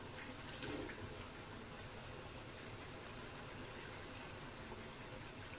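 Tap water runs steadily over a soaped makeup brush being rinsed under a faucet, a continuous close hiss and splash with no voices.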